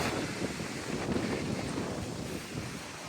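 Wind sweeping across an island, heard as a steady broadband rush with microphone buffeting, fairly loud and continuous with no voices.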